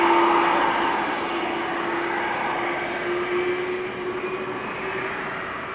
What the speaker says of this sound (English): that is an a Delta A330 that you're now hearing.